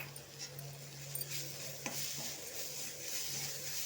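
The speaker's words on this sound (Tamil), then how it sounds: "எல்லாத்தையும் நல்லா வதக்கியாச்சு" Masala with ginger garlic paste sautéed in a pan: a continuous soft sizzle with scraping stirs of a spoon against the metal and a sharper clink midway, close by and without talk.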